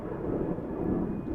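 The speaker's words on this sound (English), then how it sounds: "Seven 800 Air North departure" An Air North Boeing 737-800 departing Vancouver Airport for Whitehorse produces a faint, steady low rumble of jet engines with no talk during the short stretch.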